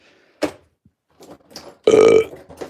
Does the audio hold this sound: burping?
yes